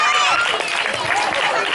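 An audience claps steadily to welcome a local MLA guest at a Christmas celebration skit in Gabbilalpet, with a loud, continuous wash of hands and crowd noise.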